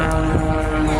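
Aerobatic propeller aircraft at the Blackpool air show, a loud steady engine drone with a droning tonal hum over the whole brief moment, close and continuous.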